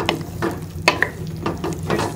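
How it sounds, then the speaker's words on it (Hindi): Yogurt being stirred into chicken curry masala in a hot pan, with a spoon scraping through the thick mixture in a few separate strokes over a steady, soft sizzle, close and moderately loud. "पहले हम इसमें दही डाल देंगे और इसको अच्छी तरह से मिक्स कर लेंगे चिकन के साथ।"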